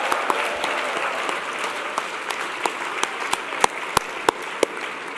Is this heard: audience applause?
yes